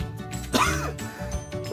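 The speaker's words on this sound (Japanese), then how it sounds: "咳が出ましたね" A single short cough or throat-clearing burst, close and fairly quiet, with faint background sound around it.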